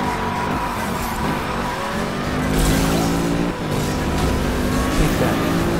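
An Audi's engine roars steadily as it drives in GTA 5, with a sustained loud drone and faint tyre noise, occasional pitch changes, no clear talk over it.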